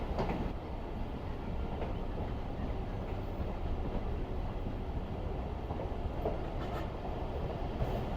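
A train runs along the Larkana to Kotri railway in Pakistan, its steady rumble and wheel clatter filling the whole span at close range, with faint intermittent clicks over the continuous low roar.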